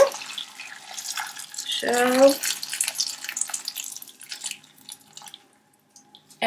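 Already-boiled water is tipped from a pan over vegetables, a short splashing pour heard up close after a brief spoken word, with soft kitchen clatter trailing off afterward.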